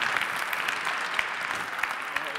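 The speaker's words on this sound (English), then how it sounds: "Sure, you can applaud that." An interview audience breaks into applause, a continuous patter of many hands with a few sharper individual claps standing out, held at a moderate level throughout.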